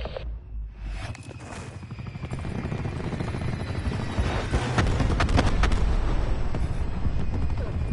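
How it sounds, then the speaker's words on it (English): Enemy attack helicopter in the video game Black Ops 4, its rotor thudding rapidly and growing louder as it approaches, with a steady engine roar and scattered gunfire beneath. "Hostile attack chopper inbound."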